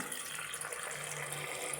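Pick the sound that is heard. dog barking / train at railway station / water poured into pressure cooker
water poured into pressure cooker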